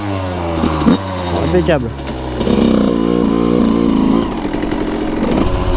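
A new 85cc motorcycle near the end of its break-in period starts up and revs close by, the engine note rising and falling in bursts before settling, with someone speaking briefly over it.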